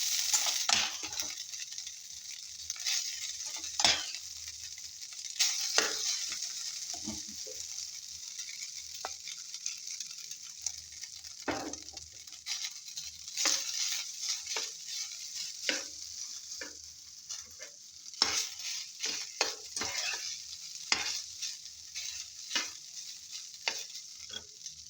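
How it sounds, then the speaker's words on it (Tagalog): Leftover cooked rice frying in a pan for a Filipino breakfast, a steady bright sizzle with frequent scrapes and clinks of a utensil stirring against the pan, close and continuous with no talking. "I will fry also little rice because last night I cook rice"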